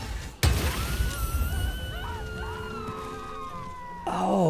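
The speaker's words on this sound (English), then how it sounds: "Oh no, it's the sound of screams." A sudden crash opens a stretch of wailing, screaming cries with shifting pitch over a noisy Baldur's Gate 3 game background, ending in another burst.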